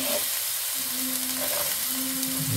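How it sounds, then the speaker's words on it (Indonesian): Onion and garlic sauté in melted ghee, a close, steady sizzle and hiss with faint stirring through the short stretch. "masukkan bawang bombay dan bawang putih, kemudian tumis sampai harum"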